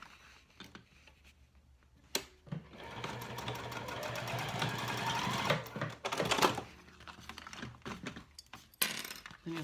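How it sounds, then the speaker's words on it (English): A domestic sewing machine stitches cork clutch side panels, starting with a few short bursts and clicks, then running in a sustained whirring stretch before stopping and resuming in brief taps, close and clear. "I'm going to sew this with a 1/4 inch seam allowance as well"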